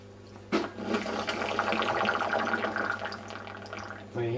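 Water gurgles and rushes in a marine aquarium sump as the siphon sucks air after the return pump loses power, a sudden onset swelling into a continuous bubbling slurp before cutting off abruptly.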